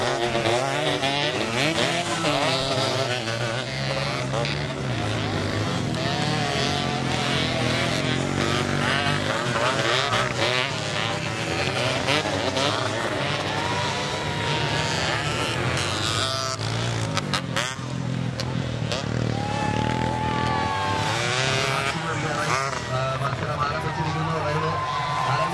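Motocross motorcycles in a 2015 beginners heat race, engines droning loud and continuous throughout, with a commentator talking over the racket.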